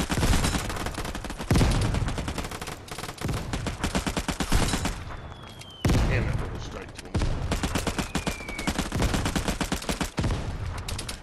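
Rapid bursts of automatic gunfire from a video game weapon, loud and dense, firing in several long strings with short gaps between, while players talk over it.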